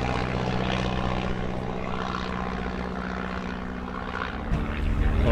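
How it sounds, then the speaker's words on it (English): Propeller planes at the Wings & Wheels show at Henstridge fly off into the distance, their droning, buzzing engines blending into a steady hum that swells again briefly near the end, with no voices. "You can still hear some planes flying away"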